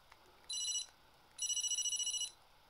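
A Steins;Gate replica phone on a stand rings with an electronic warbling tone in two bursts, a short one and then a longer pulsing trill, fairly faint and close, with no speech.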